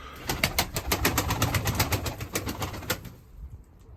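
Pigeons in a breeding coop give close, soft coos mixed with a steady run of quick wing flutters and shuffling for about three seconds, then settle into near quiet.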